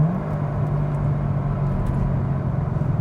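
A Corvette ZR1 engine gives a steady, loud, low rumble as the car pulls hard in second gear after a downshift. The drone is continuous and close, with no talk over it.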